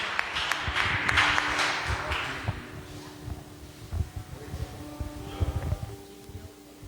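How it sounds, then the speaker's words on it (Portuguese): A church congregation applauds during a Wednesday worship service: a dense burst of clapping for about two seconds that thins out and fades, followed by scattered faint knocks and room noise. "Você pode aplaudir o Senhor por isso?"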